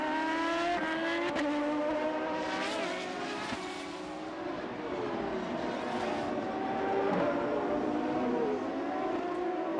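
IndyCar race car at the 1996 CART Miller 200 at Mid-Ohio roars down the front pit straight, its engine note whining up and down through gear changes as it passes, loud and continuous with no voices.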